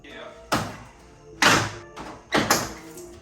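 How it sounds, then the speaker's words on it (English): A truck's front grill is pulled off in three distinct thunks, each a sharp knock with a short ringing tail, spaced about a second apart, with speech faintly present around them. "I'm gonna take that grill off just to go ahead and get it out of the way"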